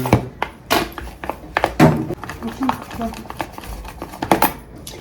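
Korean noodles with sauce are stirred in a dish, giving uneven clinks, taps and scrapes of a utensil on the bowl, with people talking over them.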